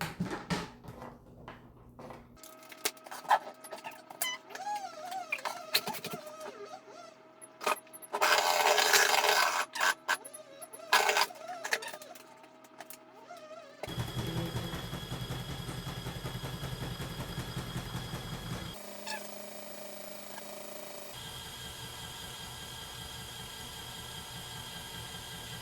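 A mini portable washing machine with a spin dryer starts with scattered clunks and scrapes, then settles into a steady whirring hum that shifts pitch partway through. No one speaks.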